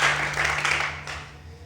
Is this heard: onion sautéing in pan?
no